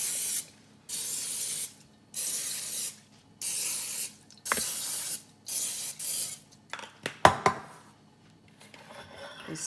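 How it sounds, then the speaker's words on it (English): Several short, sharp hisses from an olive oil spray can in an even rhythm, close by, coating a pan, followed by light clattering and handling noises. "I'm gonna spray the pan that I'm gonna use with some olive oil."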